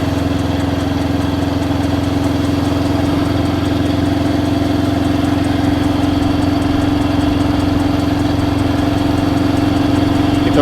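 Honda CL77 Scrambler motorcycle idling, its exhaust giving a loud, steady low throb with an even pulse that never changes pace, with no talking over it.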